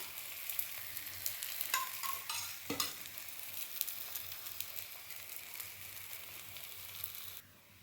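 Thanjavur urappadai sizzles steadily in hot oil, a continuous close frying hiss with a couple of brief scrapes of a spatula partway through, no voices.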